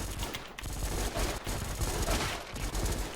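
Gunfire in a shooting video game, dense rapid bursts of automatic shots with overlapping cracks filling the whole span, loud and continuous.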